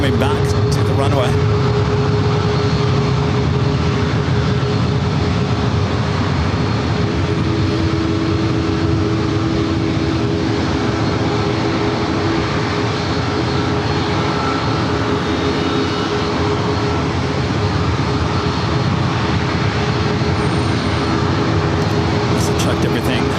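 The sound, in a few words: jet airplane taking off at San Diego airport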